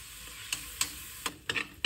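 Ground pork sizzles in a pan with a soft, steady frying hiss, broken by a few sharp scraping clicks of stirring, close and without talk.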